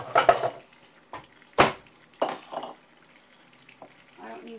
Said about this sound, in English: Oh, and then stir milk together.